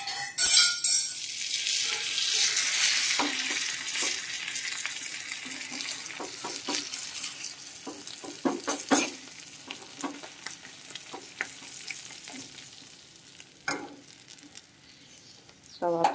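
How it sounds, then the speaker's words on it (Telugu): Tempering for a tangy karonda dal sizzles and spits in hot oil, a loud bubbling crackle at first that slowly thins out, with stirring clinks and scattered sharp pops. "ఇప్పుడు ఇందులో తాలింపు వేసేసుకుంటాను."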